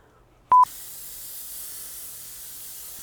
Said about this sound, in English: I gotta spray this thing down so aggressively